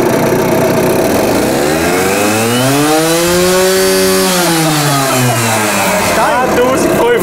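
A moped engine on a historic test bench is revved up and back down, its pitch rising to a loud peak around the middle and then falling away over a steady mechanical roar.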